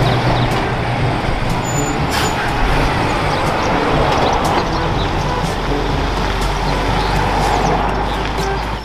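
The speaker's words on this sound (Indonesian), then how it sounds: "ini mobil truk tangki." A tanker truck on the road, a loud continuous engine rumble with heavy traffic noise and a brief hiss like an air brake, steady and close throughout.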